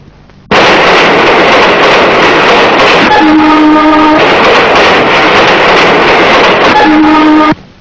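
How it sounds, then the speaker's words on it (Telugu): A train roars past very loud and close, a constant rumbling rush broken twice by long blasts of its horn before the sound cuts off abruptly. "రైలు."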